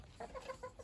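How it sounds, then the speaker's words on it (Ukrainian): Several hungry chickens cluck in quick, short bursts close by at feeding time, a brief flurry of eager calls. "Таких ще не було голодаючих курей."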